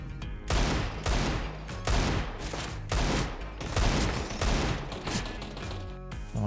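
Repeated gunfire in Counter-Strike: Global Offensive on the Inferno map, loud rhythmic bursts of rapid shots roughly once per second, dense and continuous over several seconds.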